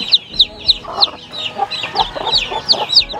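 Chickens near a nest with hatched chicks on a free-range farm give close, repeated clucks and high chirps in a quick, steady rhythm, alone without talk.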